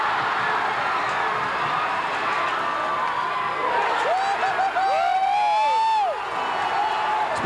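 Basketball crowd in a gym roaring and cheering after a blocked shot, a loud sustained swell with whoops and shrill whistles rising above it, while an announcer talks over the noise.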